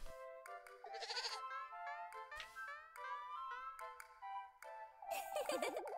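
Goats bleat in a farm-life video game: a series of loud, close, wavering bleats over about six seconds, some overlapping, with a final long quavering cry and no talk.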